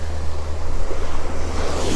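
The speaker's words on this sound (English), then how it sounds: "this is the ocean" Ocean surf washing steadily in open air, loud and continuous with a low rolling rumble and some wind across the microphone, no voices over it.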